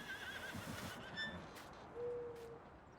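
Horses in a Farming Simulator 19 pen on a West Coast USA farm map give a soft, distant whinny and neigh over a constant low game ambience, with no voices.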